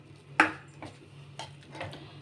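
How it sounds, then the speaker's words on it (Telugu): A spoon knocks and scrapes against a pan while ragi flour dough is stirred, giving a few sharp metallic clinks spaced apart over a low steady hum, close and fairly quiet. "స్టవ్ ఆఫ్ చేసేసుకుని మనం ఇదంతా ఉండలు లేకుండా బాగా కలిపేసుకోవాలి దీన్నంతటిని"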